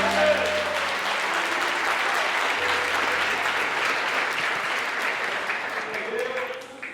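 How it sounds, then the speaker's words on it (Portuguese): Sustained applause from a church congregation, steady and fairly loud, fading slightly toward the end, with a preacher's voice faintly audible beneath it. "aplauda o Senhor, aplauda o Senhor"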